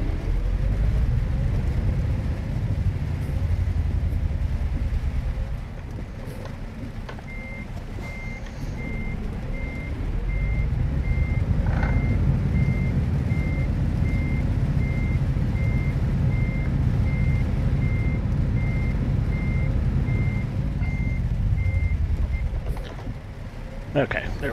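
A truck in Euro Truck Simulator 2 sounds a steady run of evenly spaced reversing beeps over a low, continuous engine rumble, loud and close throughout.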